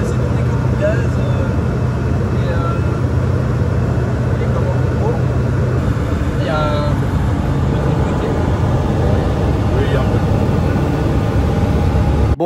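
A light aircraft engine left idling, a loud, continuous droning rumble close by, steady throughout, with voices talking over it.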